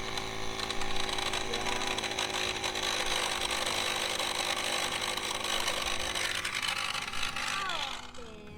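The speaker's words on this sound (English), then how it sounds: "a little bit of a cheap motor, working too hard, trying to air these big tires up that much" A cheap tire air compressor motor strains while inflating large overlanding tires, giving a steady, loud droning whine that holds throughout and fades slightly at the end, with occasional voices over it.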